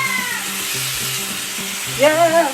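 Rinsed cooked rice sizzling as it goes into a hot pan with ground turmeric, a steady close fry with stirring scrapes beneath, and a short exclamation near the end.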